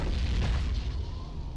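A mortar shell blasts in a video game, a loud, continuous low-end boom rumbling throughout with a dense, sustained roar rather than separate hits.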